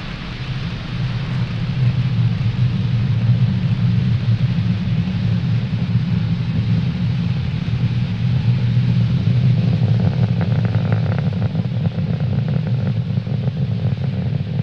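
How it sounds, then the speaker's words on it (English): A SpaceX Falcon 9 rocket climbs away after lifting off from Pad 40 at Cape Canaveral, heard as a steady, deep, broadband roar and rumble that holds for the whole stretch with a faint crackle and no talking. "Falcon 9 has successfully lifted off from Pad 40 at Cape Canaveral Space Force Station, carrying Eutelsat Hotbird 13G satellite"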